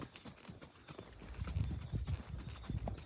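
Loose horses walking on a farm, hooves clip-clopping in a steady irregular patter at moderate distance, with outdoor background noise and no talk.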